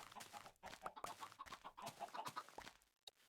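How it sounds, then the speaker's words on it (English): Chickens cluck in the game Minecraft, a stretch of soft, repeated clucks and short bird calls in an open outdoor scene, fairly quiet throughout, with no one speaking. "Let's get some chickens bred here."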